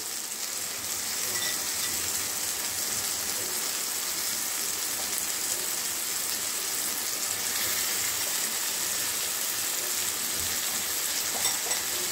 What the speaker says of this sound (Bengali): মাছগুলো আগেই একদম কেটে বেছে জল ঝরিয়ে রাখা যাচ্ছে, সেই জন্য সরাসরি কড়াইয়ে দিয়ে দিচ্ছি।